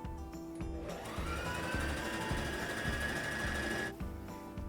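A sewing machine runs a steady straight seam through fabric for a patchwork tea mat, a continuous close mechanical whir that speeds up and holds before stopping near the end.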